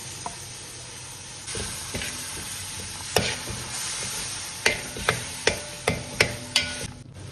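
Tomato puree going into a hot pan for an Arabic madhooth chicken dish, giving a steady sizzle and frying hiss with a run of sharp spoon-on-pan knocks and stirring clatter near the end.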